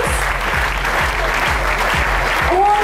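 A dense, steady crowd applause greets a player being introduced at an ice hockey season opening in Bad Nauheim, with a low rhythmic thumping underneath and a loud, sustained wash of clapping throughout.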